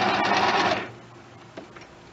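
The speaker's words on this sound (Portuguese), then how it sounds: "lá na fenda, no retângulo da fenda, eu vou fazer a costura reta" A sewing machine runs a straight stitch along the slit of a straight skirt, a close, steady mechanical whir for under a second before stopping, followed by faint handling clicks and rustling of fabric.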